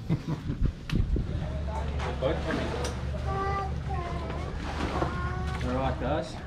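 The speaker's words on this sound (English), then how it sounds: "The boat coming." A boat motor drones low on open water while a lure-fishing crew chases jack crevalle, a steady rumble under excited overlapping talk and shouts nearby.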